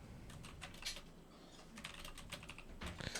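Quick bursts of keystrokes on a computer keyboard as a short prompt is typed into an AI video tool, irregular clicks close up and fairly quiet with no talking.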